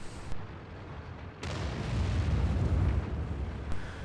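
A tank cannon fires in a video game, a heavy boom that swells into a long, loud rumbling roar lasting several seconds before fading.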